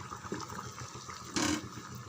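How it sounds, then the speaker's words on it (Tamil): Water from a tumbler pours into a masala gravy made with gram flour, capsicum and carrot, a brief splashing burst amid faint kitchen background. "இப்போ ஒரு டம்ளர் தண்ணி மட்டும் விட்டுட்டு"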